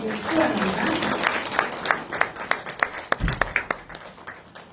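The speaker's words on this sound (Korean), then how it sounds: "큰 박수로 맞이해 주시기 바랍니다" Audience applause welcoming a speaker at a business presentation, a brisk burst of many hands clapping that thins into scattered individual claps, with brief talk near the start.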